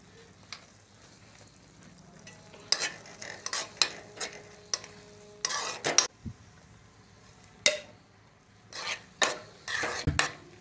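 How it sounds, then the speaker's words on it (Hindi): Ground roti frying over a low flame while a spoon stirs and scrapes the pan in irregular strokes, each a short bright scrape over a quiet, gentle sizzle. "रोटी को हल्की आंच पे फ्राई कर लेंगे।"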